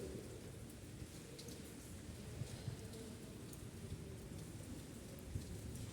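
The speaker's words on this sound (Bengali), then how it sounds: "এত বৃষ্টি হচ্ছে" Steady, dense rain pours down continuously, with water running over a road, a broad hiss with scattered heavier drops and patters, no voices heard.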